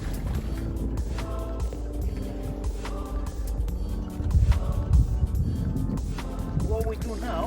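A sailboat's engine idles steadily at anchor in Whangaroa Harbour during an around-the-world voyage, a low continuous drone with intermittent knocks and clatter, while people talk over it.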